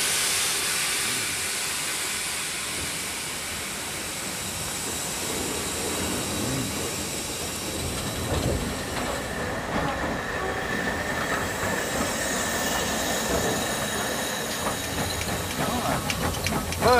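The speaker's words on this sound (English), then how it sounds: "you get the feeling of what steam locomotion was like on the Great Western Railway" A Great Western Railway steam locomotive rumbles along the rails with a steady hiss of steam, wheels squealing now and then, while voices talk faintly beneath the noise.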